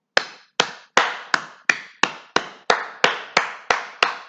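Twelve sharp hand claps in a steady, slightly quickening rhythm, crisp and close, each ringing briefly before the next, with no talk.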